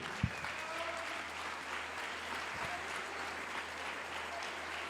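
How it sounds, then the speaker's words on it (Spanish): Congregation clapping as an offering of praise during a Spanish-language church service, a soft, steady spread of applause that sounds somewhat distant, with a sharp knock near the start and a faint low hum underneath. "dele una ofrenda de palmas a su Rey"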